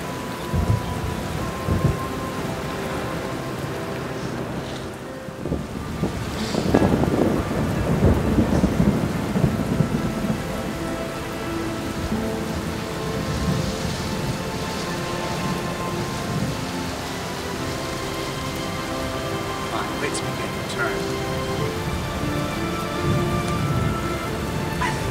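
A theatrical storm effect with steady heavy rain and rolling thunder, a loud rumble swelling early on and then a constant rain wash, full and close throughout.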